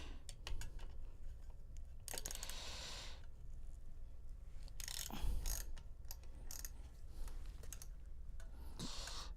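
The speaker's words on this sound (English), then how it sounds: "I'm just loosening the caliper mounting bolts right here." A wrench loosening the brake caliper mounting bolts on a bicycle gives faint, intermittent metallic clicks and ratcheting taps in short irregular clusters, close but quiet against a soft room background.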